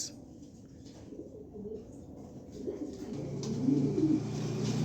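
A pair of pigeons coos softly nearby. The low, burbling calls swell and grow louder toward the end against a quiet, steady room background.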